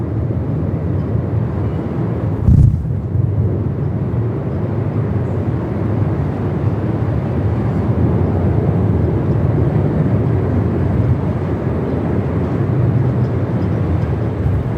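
A Rex airliner approaches to land at Melbourne Airport in 45-plus-knot winds. A steady, heavy roar of wind and engine runs throughout, with one brief thump early on.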